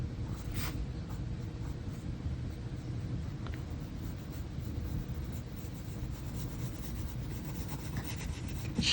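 A pencil rubs and scratches steadily across paper, shading a drawing of a Gorgosaurus, a soft continuous rasp heard up close and alone.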